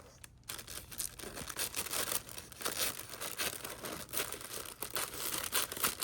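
Paper being cut with scissors for a handmade craft pocket tag, a close run of crisp snipping and rustling strokes repeating steadily for several seconds with no voices.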